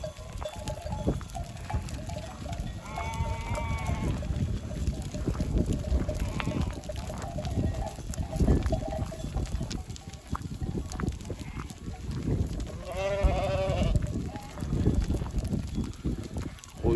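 Sheep bleat twice at a farm barn, a short call early and a longer wavering one later, over gusty wind and rumbling outdoor noise in cold, rainy spring weather.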